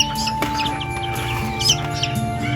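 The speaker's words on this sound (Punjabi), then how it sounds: "ਮੈਂ ਤੁਹਾਨੂੰ ਦਿਖਾਉਣਾ ਫਾਰਮੀ ਮੁਰਗੀ ਦੇ ਬੱਚੇ ਆ" Farm chicken chicks peep and cluck softly up close in short bursts, over a steady low mechanical hum.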